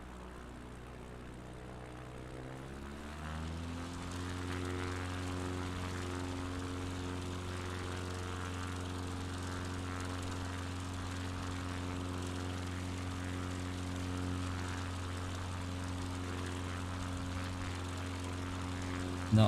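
A propeller plane in a flight simulator drones steadily, its engine tone rising in pitch over the first few seconds before settling into a constant hum.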